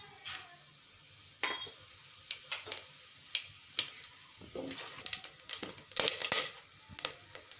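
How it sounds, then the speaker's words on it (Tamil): Fennel seeds, bay leaves, star anise, stone flower, cardamom and cloves crackle in hot oil for mint biryani, a faint sizzle punctuated by scattered sharp pops that grow busier toward the end, with occasional stirring clinks. "சோம்பு பொரிஞ்சிருச்சுங்க"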